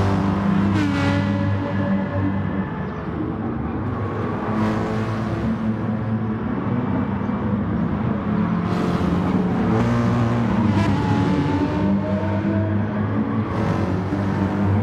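AMG and BMW M6 race cars in Gran Turismo Sport racing around a Sardinia circuit, with loud sustained engine drone and repeated revving and gear-change swells throughout.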